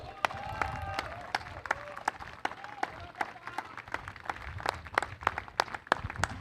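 Scattered audience clapping at an award presentation during a T20 leather-ball cricket match between judges' and bar teams, sharp uneven claps over a tonal murmur of voices and background crowd noise.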